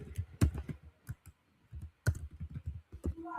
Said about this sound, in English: I'm sorry we have to go through this business of typing